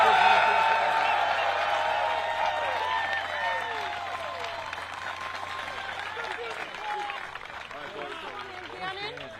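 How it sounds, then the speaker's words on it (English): An outdoor crowd at a disc golf championship final applauds the two competitors, the clapping loud at first and gradually fading beneath ongoing chatter and talk. "how about one big round of applause for these two competitors?"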